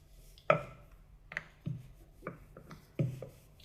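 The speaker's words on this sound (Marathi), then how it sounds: "आपल्याला हे आता लाटून घेऊया." Samosa dough rolled with a rolling pin into an oval: soft, close wooden knocks and thuds at irregular intervals over a quiet background, with no voices.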